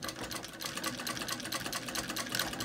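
An antique 1880 sewing machine running steadily, a fast continuous mechanical clatter with rapid regular stitching ticks, fairly soft and close, with no talk over it.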